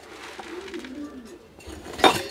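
Pigeons in a loft give soft cooing under faint clinks and rustling, capped by a brief louder clatter near the end, close and with no talk.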